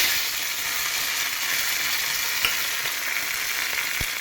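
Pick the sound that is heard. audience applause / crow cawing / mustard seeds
mustard seeds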